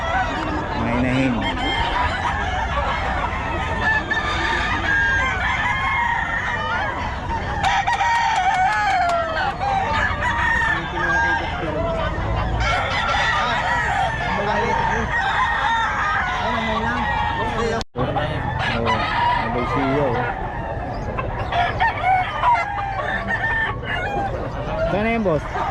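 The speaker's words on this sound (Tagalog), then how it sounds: "Mga inahin." Hens cluck continuously while a rooster crows amid a busy, noisy crowd of poultry, with people talking throughout.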